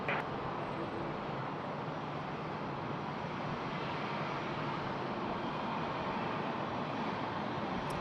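A jet airliner taking off from runway 16 right at Sydney Airport, a steady broadband engine roar that holds loud and even throughout, heard from a distance without voices.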